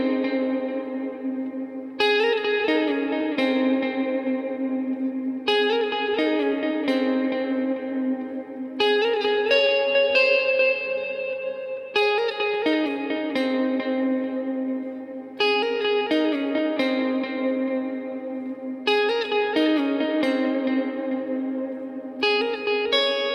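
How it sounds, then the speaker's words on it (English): An electric guitar played through a Line 6 Helix with bright delay and reverb rings out in repeated strummed phrases, each chord trailing into echoing repeats and a wash of reverb, clear and close with no talk. "you're going to have your brighter delay, the 5 or 6 repeats, and then the less decayed reverb on"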